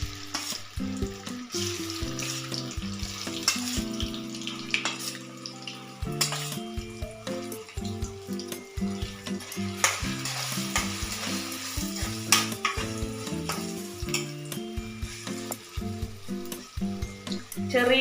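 Soya chunks fry in hot oil for a healthy roast with a continuous close sizzle and crackle, while a pan is stirred and scraped with occasional clinks, under music.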